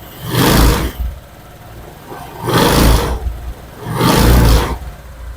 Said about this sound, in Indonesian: saya gas dikit-dikit ya